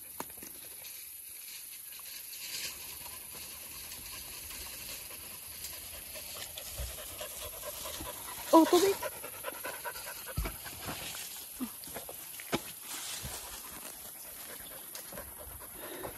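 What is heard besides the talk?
tired dogs panting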